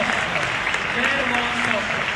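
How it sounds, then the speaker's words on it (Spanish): Sustained, loud applause from a live audience at a political talk event, dense and steady throughout, with voices mixed in underneath. "quiero que le demos un muy fuerte aplauso al profesor Martín Krause"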